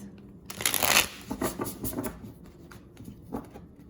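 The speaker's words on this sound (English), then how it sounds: "So these shuffle beautifully, shuffle very smooth." Tarot cards being shuffled with a crisp, rapid riffling burst that softens into quieter shuffling and a few light flicks, close up with no talking.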